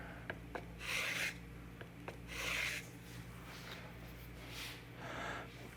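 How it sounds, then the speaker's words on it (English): Abrasive sharpening stones hone a burr off a blade edge with light strokes, giving soft, quiet rasping rubs that come in about four separate passes with brief pauses between. "I'm cutting that burr off with the abrasives and not bending it over with pressure."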